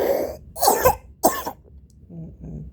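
A person with a cold coughs several times in harsh, close bursts, with a couple of throat-clearing sounds and rough breaths between them and nobody speaking.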